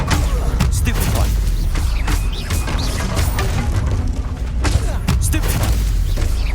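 Combat spells fire in Hogwarts Legacy in a dense, continuous barrage of booming blasts and crackling impacts. The Stupefy cast is mixed among other spell effects, with a voice shouting under the din.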